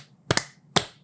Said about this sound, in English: And slow clap for the audience.